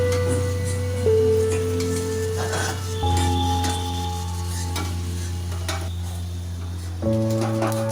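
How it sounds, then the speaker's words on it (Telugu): Puris for pani puri frying and puffing up in hot oil, with a steady loud sizzle and bubbling that stays close and continuous, broken by a few clinks and stirring sounds from a pan. "ఎంత బాగా పొంగుతున్నాయి. నూనె బాగా కాగితే పొంగుతుంది."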